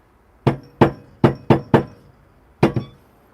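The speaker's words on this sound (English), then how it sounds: "I'm just gonna knock it out on my knockbox." An espresso puck from a Breville Barista Express portafilter is knocked out into a knock box: five sharp, evenly spaced thwacks followed by a quick double knock, close and loud with no talking.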